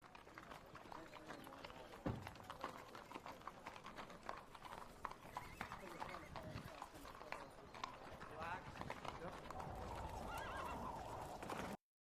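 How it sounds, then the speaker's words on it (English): Horses neigh and hooves clip-clop at a run in an Old West–styled music video scene, faint and mixed under a busy, dense background throughout. "come down on the flying horse"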